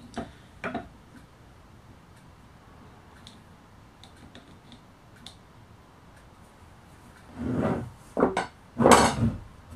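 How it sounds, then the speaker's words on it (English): A half inch chisel taps and scrapes against wood while marking a gaming table leg, with a few sharp ticks early on and then louder clustered knocks and scrapes near the end. "I'm going to use my half inch chisel to mark it"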